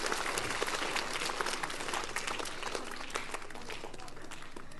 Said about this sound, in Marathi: खूप मोठ्या आवाजामध्ये टाळ्यांचा गडगडाट झाला पाहिजे